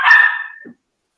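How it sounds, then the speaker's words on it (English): A dog gives a single sharp, loud bark close by, followed by a brief softer huff before silence. "I'm sorry about the dog noise"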